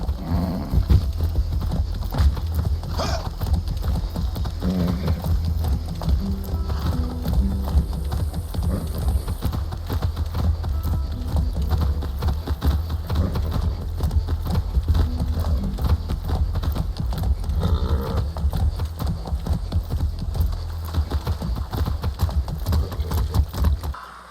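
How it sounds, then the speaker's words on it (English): Horse hooves clip-clop steadily while riding in the Far Cry 6 video game, a continuous rhythmic beat over a dense, loud background of game ambience and music. "I haven't ridden a horse since basic training."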